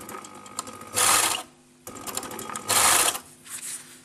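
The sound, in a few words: sewing machine stitching fabric 8 mm from the edge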